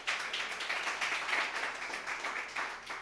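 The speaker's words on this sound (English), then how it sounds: "Please give City First Bank a round of applause." Crowd at a Black Love Festival kick-off event applauding, a dense, fairly quiet patter of many clapping hands sustained throughout without a break.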